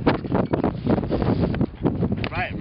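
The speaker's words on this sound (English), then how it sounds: "This is windy like crazy." Strong outdoor wind during street skating thumps and roars across the microphone in short, close gusts while voices talk over it.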